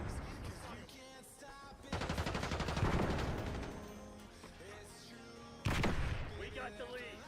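Sustained automatic gunfire in a Call of Duty match, with rapid bursts rattling for long stretches and a renewed loud burst near the end, with a voice speaking over it.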